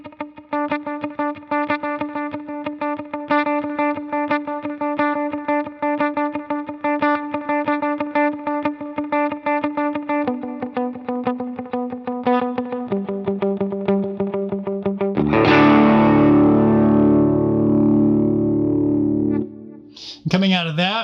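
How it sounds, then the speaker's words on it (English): An electric guitar plays a lead riff of quick repeated picked notes, first clean, then with effects that add distortion and a washy, echoing sustain. The guitar is loud and close, with no talking. "I'll play it without the effects and then with the effects."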